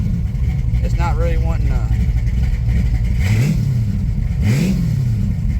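Carbureted 6.0 LS V8 swapped into an S10 pickup revs up twice in quick rising-and-falling sweeps over a steady idle, loud and close, with someone talking briefly early on.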